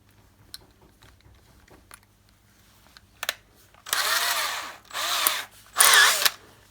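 An electric drill whirs into wood in three short bursts, loud and close, separated by brief pauses, with a few clicks before the first run.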